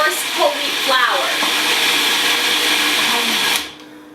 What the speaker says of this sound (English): So I'm grinding this up till it's fine, almost like a coarse whole wheat flour.